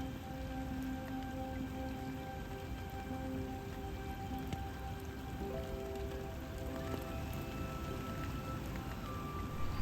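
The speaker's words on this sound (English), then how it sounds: "I wouldn't normally move today because it's awful rain" Rain falls steadily on a narrowboat moored on a UK canal, a dense even patter of drops drumming on the roof throughout, with a faint low hum beneath and no voices.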